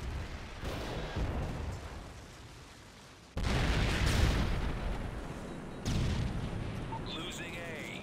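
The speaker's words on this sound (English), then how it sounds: "Friendly Predator missile inbound." Predator missile strikes in Call of Duty Black Ops 2 multiplayer hit as several heavy explosions in succession, each a sudden loud boom trailing into a rumbling decay amid game effects.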